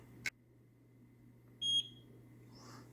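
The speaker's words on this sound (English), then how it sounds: "Okay, and heard the beep." A single sharp electronic beep, short and clear, from a Eufy S40 solar security camera during setup, followed by a brief higher-pitched chirp a moment later over a steady low hum.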